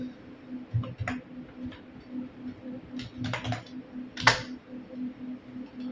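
Code being typed on a computer keyboard, heard as scattered clusters of close, light key clicks with pauses between bursts over a steady low hum.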